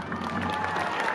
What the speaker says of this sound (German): Einen Applaus!